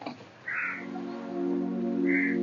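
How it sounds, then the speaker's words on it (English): Crows begging for food outdoors, two separate loud caws spaced well apart, the first near the start and the second near the end, over a steady low mechanical hum. "I'm just going to give these crows some food to kind of get them to shut up because they've been begging a lot"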